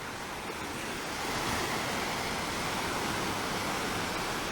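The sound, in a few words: waves on a beach in Barbados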